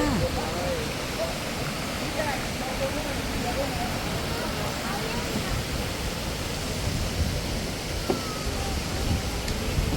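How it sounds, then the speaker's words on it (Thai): Steady, powerful roar of Jok Kradin waterfall in Thong Pha Phum, Thailand, heard up close, a continuous dense wash of noise without pause. "น้ำตกไหลแรงและเสียงดังมาก"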